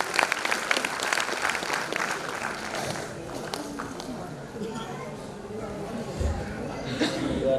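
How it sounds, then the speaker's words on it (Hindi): A crowd at a school annual function applauds for the mothers, a burst of clapping that is strongest at the start and then thins, with chatter and voices around it. "जोरदार तालियां हो जाए"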